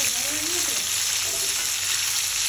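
Chopped tomatoes hit a pan of frying chicken kofta, giving a loud, dense, continuous sizzle that stays even throughout, close up and without pause.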